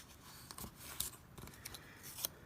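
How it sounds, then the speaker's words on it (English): Scissors snip through scored paper in a series of quick, crisp cuts with small clicks between them, close and quiet, with no talking. "that's what scissors were made for"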